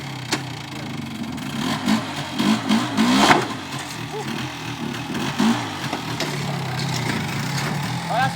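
A Polaris Xplorer 400 quad engine held on the throttle, a mid-pitched motor rising and wavering in revs close by, with brief bursts of louder revving.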